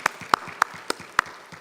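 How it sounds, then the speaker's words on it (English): Handful of distinct, evenly spaced claps at a men's day political forum in a Baptist church, about five sharp hits over under two seconds, sounding like one or a few people rather than a full crowd. "How about another round of applause for Sister Carrie Dennison?"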